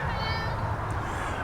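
A kitten meows in a workshop where tissue paper is being prepared for covering a model Albatros wing, the cries blending into steady low background noise across the short moment.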